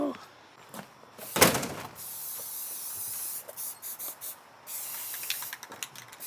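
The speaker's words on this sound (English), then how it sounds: "were you just trying to spray it before it dried?" Spray can hissing in a garage workshop, a loud burst early on followed by several shorter sprays in quick succession, close by, with people talking around it.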